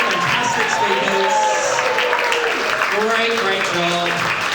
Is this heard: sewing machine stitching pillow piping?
no